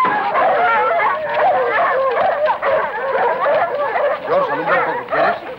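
A pack of dogs barking and yipping excitedly at a nighttime search with cars arriving, dense and continuous, fairly loud and close, mixed with a few shouting voices.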